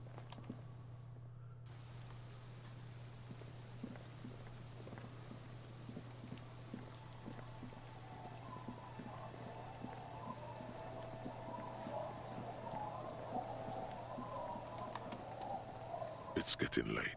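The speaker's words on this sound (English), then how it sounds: "It's getting late, and it's raining." Steady, soft rain patters in the video game Disco Elysium, faint and continuous beneath a speaking voice.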